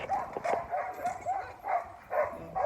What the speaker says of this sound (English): so the dogs are going crazy